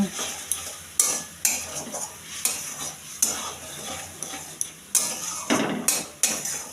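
A spoon scrapes and stirs turmeric, Kashmiri chilli powder and roasted coriander-cumin powder in hot oil in a pan, with regular clacking strokes about every second over a soft sizzle.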